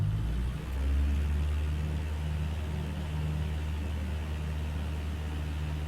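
Simulated aircraft engine held at full throttle in Microsoft Flight Simulator, a steady low droning roar with a constant tonal hum, loud and unbroken throughout with no talking.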